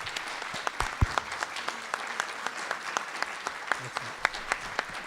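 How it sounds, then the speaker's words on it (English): Scattered, moderate applause from a modest audience at a school committee meeting, with individual hand claps clearly audible and one sharp thump near the start. "Can we have a big round of applause?"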